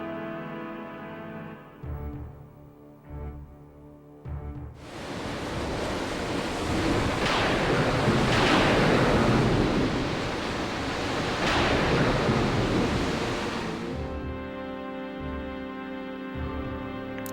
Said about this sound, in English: The sea raged.